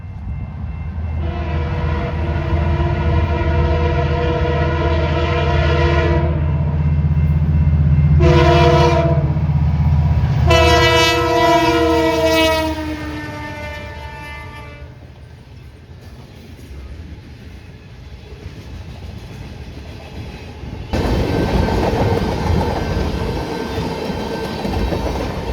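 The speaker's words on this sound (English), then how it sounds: "the last train of the day was the first CPKC local we've chased out of the city" A CPKC local freight train approaches and passes a grade crossing, its horn sounding in long blasts and then short ones, with a steady rumble and wheel clatter and crossing noise building toward the end.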